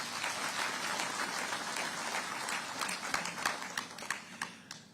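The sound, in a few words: audience applause for His Excellency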